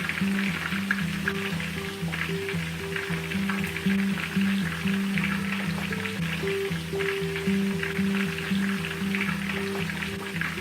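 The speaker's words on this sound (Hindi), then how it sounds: "मैं इलेक्ट्रिक चूल्हे पर बना रही हूँ, इसलिए मैं फुल हीट पे इसको फ्राई कर रही हूँ" Fish pieces deep frying in hot oil on an electric stove at full heat, a steady close crackling sizzle with a low rhythmic hum underneath, continuous and fairly loud.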